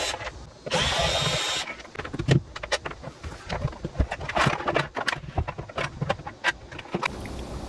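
Power tool opening a 1.5 kVA ring-core transformer: a steady whirring motor burst, then a dense run of irregular clattering knocks and scraping clicks, close and busy, with no voices.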